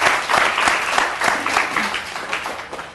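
Loud audience applause fills the space, dense continuous clapping from a sizeable crowd that swells early and slowly thins toward the end, no talk over it.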